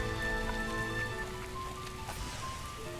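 Rainfall in the video game Hyrule Warriors: Age of Calamity, a steady hiss of drops on surfaces running throughout, layered with faint game music tones.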